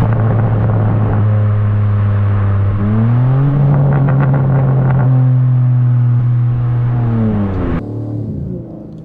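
Tuned 590 hp BMW M3 Touring with an Akrapovic exhaust accelerating hard, a loud close engine roar climbing through gears with rising pitch and brief shift breaks, ending in a few exhaust pops.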